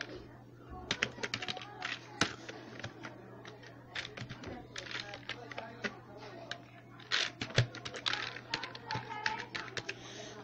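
Fingers type on a computer keyboard in bursts of quick, close key clicks and taps over a low hum, with someone speaking Bengali in between.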